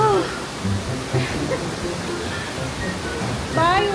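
A waterfall on Taiwan's north coast gives a steady, broad rush of falling water that fills the whole stretch, with faint voices and a brief tonal chirp partly masked by the roar.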